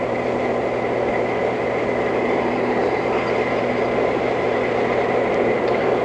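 A 1968 Robert Kennedy campaign train rolls along rails in Oregon, giving a steady, continuous rumble with constant mechanical hum and no clear clacks, heard close from aboard for the whole stretch.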